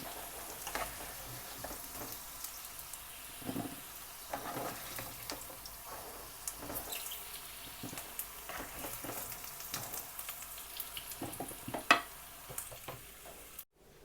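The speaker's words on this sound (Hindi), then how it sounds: "अब देखें आलूओं को मैंने 3-4 मिनट के लिए शैलो फ्राई कर लिया।" Potatoes shallow frying in oil crackle and sizzle quietly, with irregular scrapes and taps as they are turned and lifted out, the hiss faint and close with no speech.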